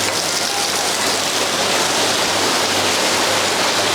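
Water pours steadily into a Thai mussel curry with betel leaves, a loud, continuous rushing splash that lasts throughout with no talking.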